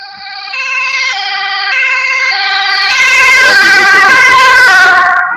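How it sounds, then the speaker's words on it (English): An ambulance siren wails loudly and close, starting as a clear two-tone sweep and then swelling as the vehicle passes, with road noise rising beneath it. "Just praying because some ambulance passed by."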